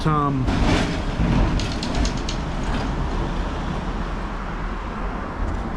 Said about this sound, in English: that's what you get when you live next to a 4-lane highway